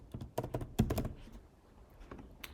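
Keystrokes on a computer keyboard during a French no-code software tutorial come in a quick, close cluster of clicks, then thin out into a few scattered taps.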